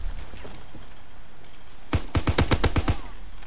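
An MG 81 light machine gun in Call of Duty WW2 fires one rapid burst of about seven sharp shots over a steady background hum, close and loud.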